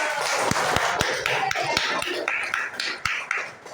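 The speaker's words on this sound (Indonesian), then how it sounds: "Oke, tepuk tangan dulu." A classroom of students claps hands, a loose run of distinct sharp claps at uneven intervals over a murmuring background.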